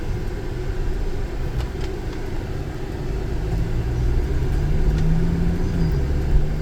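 A 2025 OGV van accelerates on a main road, heard from inside as a steady low engine and road rumble that swells gradually as speed builds, with no voices.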